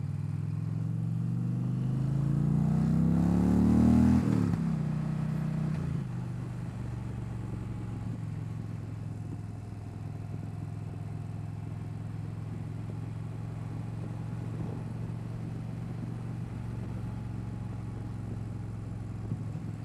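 A 2025 Indian Pursuit 112 motorcycle engine climbs in pitch for a few seconds as it accelerates, then settles into a steady cruising drone.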